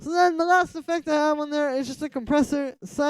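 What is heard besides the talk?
None of the usual background noises is heard.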